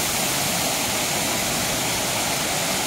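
Waterfall with water rushing fast over rocks in the Yercaud hills, a loud, dense and unbroken roar heard up close, with no voices.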